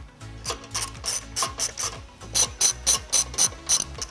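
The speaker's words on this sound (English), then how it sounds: "You can now remove 2 nuts from the bumper beam using an 18mm socket and a 6-inch extension." A hand ratchet with an 18mm socket and a 6-inch extension backs off the bumper beam nuts on a 2008-2013 BMW 128i: loud, close bursts of quick pawl clicking in a steady back-and-forth rhythm, with no voices.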